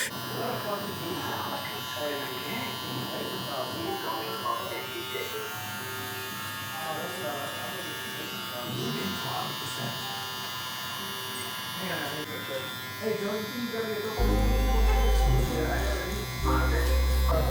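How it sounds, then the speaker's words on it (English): A Gamma/Stylecraft electric hair trimmer fitted with a new 3versince blade buzzes steadily and close while cutting hair, a constant whir under ongoing talk, growing louder and harsher near the end. "because I like to bald out with my trimmers"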